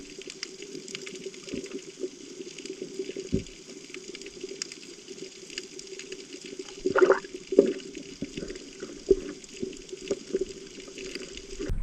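Someone swims through water among mangrove thickets, with soft splashes and sloshing strokes that grow louder in the second half, set over a steady background hum.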